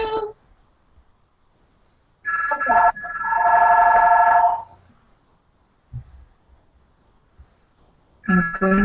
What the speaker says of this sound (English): Sorry, Lisa, the phone rang and then the door rang and the door rang and